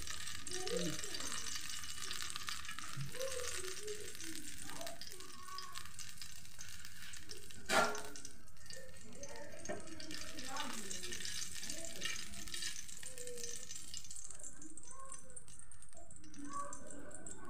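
Hot oil crackles and hisses in a pan in a home kitchen, a soft, steady frying sound heard beneath a person talking throughout, with one sharp clatter partway through.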